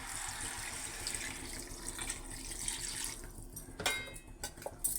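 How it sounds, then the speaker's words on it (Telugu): A lota of water being poured into a country chicken curry cooking in a pressure cooker, a soft steady splashing flow that grows brighter and gurgles near the end. "నేనైతే ఒక లోటా నీళ్ళు అయితే వేసుకుంటున్నాను"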